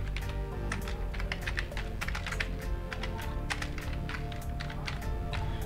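Someone types a bank address into accounting software on a computer keyboard: a quick, uneven run of close key taps, continuous with no pauses and no voices.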